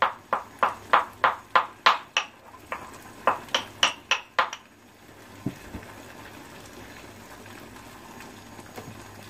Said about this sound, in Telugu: 2 యాలక్కాయలు కొట్టేసుకుంటున్నాను స్పీడ్గా.